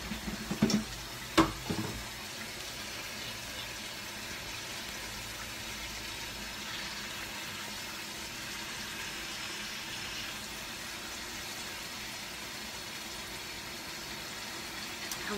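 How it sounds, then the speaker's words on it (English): Water runs steadily from a tap while a blender cup is rinsed in a kitchen sink after making a kale and spinach shake: a soft, continuous hiss with a few brief clunks near the start. "I'm basically cleaning my blender cup"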